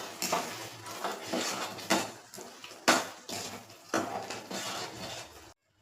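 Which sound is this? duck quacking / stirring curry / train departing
stirring curry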